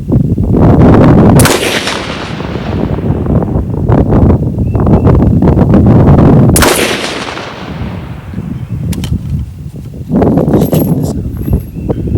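Two loud 6.5 Grendel rifle shots fired outdoors with handloaded varmint ammunition, each a sharp crack with a trailing echo, about five seconds apart, with wind noise in between.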